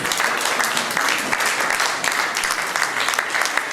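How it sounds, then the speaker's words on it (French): A church congregation applauding and cheering for the Lord, sustained loud clapping with scattered shouts throughout. "Est-ce qu'on peut acclamer très fort le Seigneur?"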